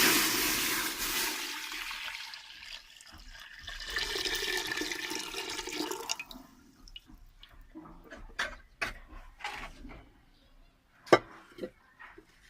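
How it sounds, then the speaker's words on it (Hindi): Two kilograms of milk pour into a pot in a steady, splashing gush for about six seconds, then give way to scattered clinks, drips and utensil knocks in a kitchen. "2 किलो दूध डालेंगे अभी।"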